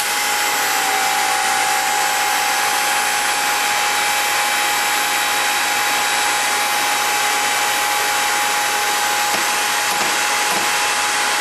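A JD Squared Model 32 bender bends square tubing around to 90 degrees, making a loud, steady whirring drone with a faint constant whine that runs unbroken throughout, with no talking.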